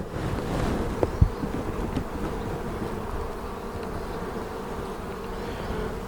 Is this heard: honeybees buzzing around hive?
yes